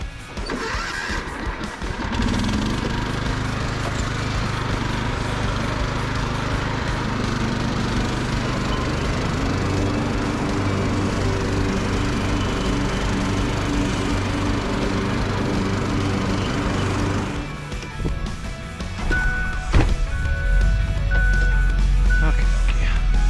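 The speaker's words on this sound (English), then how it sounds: "Give a quick mow on this shit." A lawn mower engine starts up and runs steadily close by, a loud continuous drone, with a shift in tone near the end.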